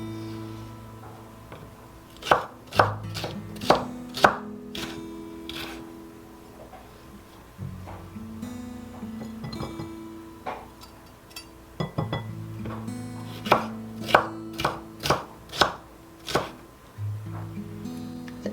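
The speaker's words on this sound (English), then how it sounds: "So I am just cutting the peppers into strips." Knife chopping Cubanelle peppers into strips for Instant Pot peppered beef, a run of sharp clinking taps on a board in two bursts, with soft background music and no talking.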